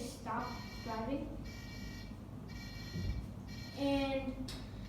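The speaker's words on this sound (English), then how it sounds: "it will sound an alarm to let people notice that it will stop for the passenger safety" Buzzer alarm on a small robot car sounding as it stops for a passenger, a repeated tonal beeping in roughly regular bursts heard under someone talking throughout, fairly quiet.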